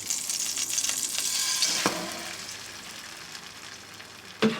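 French toast fries in a hot pan with a bright sizzling hiss that swells and then gradually eases, broken by a couple of sharp clinks from a utensil.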